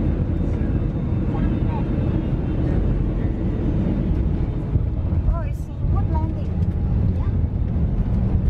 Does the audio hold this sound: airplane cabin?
yes